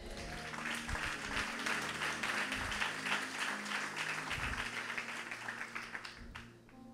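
A church congregation applauds and cheers during a French-language sermon, with dense sustained clapping and crowd noise alongside low musical tones, fading near the end.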